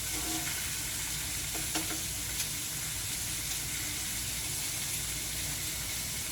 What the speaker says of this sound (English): we're going to take our tomahawk, flip it over one more time